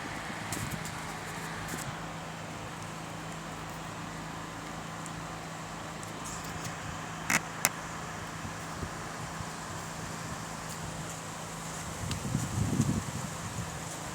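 A car drives slowly past a school, with a steady low engine hum and wind-like rumble running throughout, a couple of brief clicks near the middle and a slightly louder low thump toward the end.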